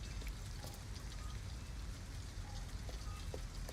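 Steady rain falling in the video game Detroit: Become Human, a dense continuous hiss of drops with scattered sharper taps on surfaces, even and moderately loud throughout.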